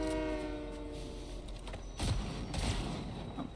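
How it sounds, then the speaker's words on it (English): Train in the video game Saints Row, a steady rumbling rail run with faint whistle-like tones, growing louder and rougher partway through. "I'm gonna get back on the train."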